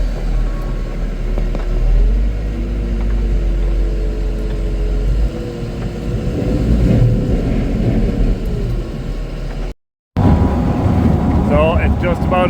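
A chopper machine with an auger grinds away in a steady, loud, low rumble that keeps on for several seconds, cuts out briefly and then resumes, with someone speaking over it.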